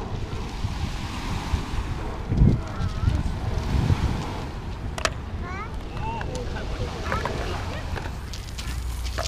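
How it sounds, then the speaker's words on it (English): Waves from a passing boat's wake wash and splash steadily against a shore in Seattle under gusty wind noise, with a few brief voices and faint bird chirps in the background. "A boat went by and it's made some bigger waves."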